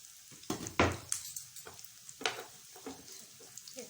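Chicken potato rolls fry in oil, heard as quiet sizzling with intermittent scrapes and clinks of a utensil against the pan, close but faint.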